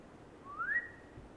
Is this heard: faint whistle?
yes